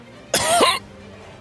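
A single harsh, close cough bursts out for about half a second, with a second cough just starting at the very end.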